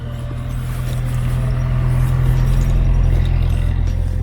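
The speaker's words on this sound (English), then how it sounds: "I hear a car. It's the trusty mail," Mail car passing along a snow-covered residential street, a steady low engine rumble that stays loud and close for the whole stretch.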